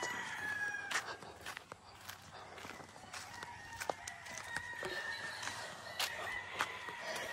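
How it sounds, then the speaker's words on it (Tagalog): Hens with their chicks on a farm make faint, scattered clucks and thin peeps, with occasional louder calls against a quiet background. "ito po yung mga inahin ng sisiw"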